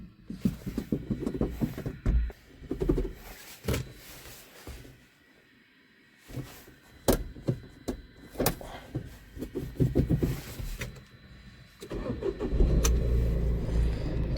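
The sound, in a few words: tractor engine starting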